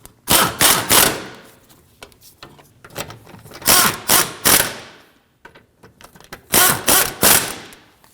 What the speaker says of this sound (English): With the suspension at ride height, we can tighten up the top strut bolts.